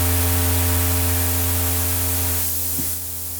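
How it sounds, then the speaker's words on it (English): ELZ_1 synth noise oscillator producing a loud, harsh hiss of white or pink noise blended with a steady buzzing tonal waveform, holding constant and then dropping slightly at the end. "It will essentially combine either a white noise or a pink noise with a basic waveform."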